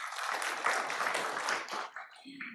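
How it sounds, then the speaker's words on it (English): Applause from a conference audience at a Huawei partner summit in Saudi Arabia, a thick wash of many clapping hands that holds steady, then thins out and fades within a few seconds. "let's give a warm round of applause again"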